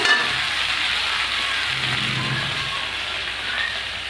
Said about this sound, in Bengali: ভালো করে আমি একটু ভাজা ভাজা করে নেব